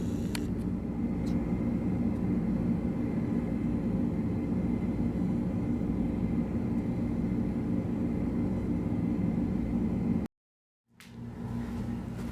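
A plane landing at Louisville airport, heard from a nearby hotel room as a steady, loud low rumble and roar that holds throughout, cuts out abruptly near the end, then returns.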